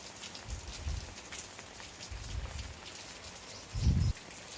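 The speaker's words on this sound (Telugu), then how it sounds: "బయట అయితే ఫుల్ వర్షంగా ఉంది" Heavy rain keeps up a steady hiss outside, broken by a few low thuds and bumps nearby.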